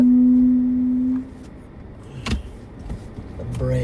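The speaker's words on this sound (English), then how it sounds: "The brakes are just going crazy." A car's brakes give out a sustained tonal whine that cuts off, then rattles, clunks and thumps follow while storm chasing in a South Dakota bow echo.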